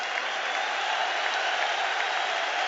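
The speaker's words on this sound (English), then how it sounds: "he takes the applause of the Celtic support" Supporters at a Celtic football match applaud a new signing in green and white hoops, a dense, steady wall of clapping from a large stadium crowd that holds evenly throughout.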